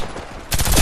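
Gunfire in the online shooter Warface: a close burst of rapid automatic shots breaks out halfway through, loud and continuous, after quieter game noise.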